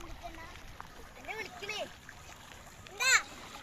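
A child splashes and plays in floodwater covering paddy fields, with light water splashes and a sharper burst near the end, while a voice and other talk are heard.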